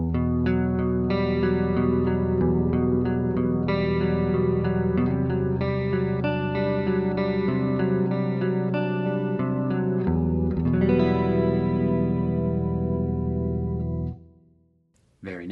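Clean electric guitar tone with active pickups, played through a Fractal FM3, FM9 or Axe-FX III; chords and picked notes ring out steadily with a chorus-like shimmer and echo, then fade near the end.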